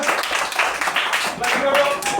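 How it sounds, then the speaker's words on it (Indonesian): A group clapping their hands together in a steady burst of scattered claps, fairly close, with voices mixed in. "tepuk tangan semua"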